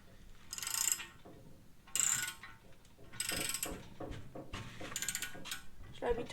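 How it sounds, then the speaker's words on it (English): A draw bolt being ratcheted tight to pull a rear cam bearing into an Allis Chalmers C engine block, giving repeated metallic ratchet clicks in short bursts at moderate volume, with faint talk in the background. "We're actually going to draw it through with a draw bolt. And that's going to set our rear cam bearing."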